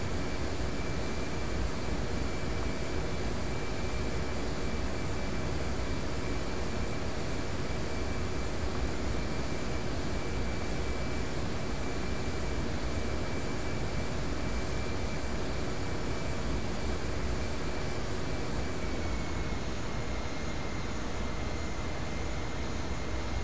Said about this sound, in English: Engines are reducing now to climb 1 power.